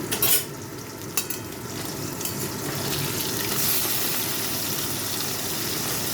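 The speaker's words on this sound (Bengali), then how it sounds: "এখানে সব মাছগুলো ভাজতে দিয়েছি" Small puti fish fry in hot mustard oil in a kadai, a dense continuous sizzle with bubbling hiss and a couple of sharp clatters near the start, close and steady.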